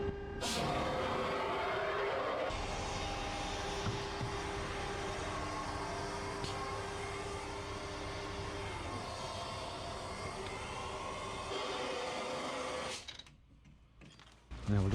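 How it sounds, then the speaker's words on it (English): Truck-mounted blower on a Scania tanker lorry running loud and steady, a constant mechanical roar with a whine on top that cuts out sharply near the end. "normally you go turn off the blower"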